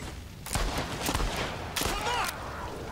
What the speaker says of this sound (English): I shot him in the knee.